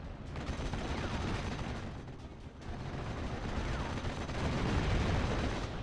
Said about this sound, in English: We do have a flak 88 here. We'll start pitching in its many HE rounds.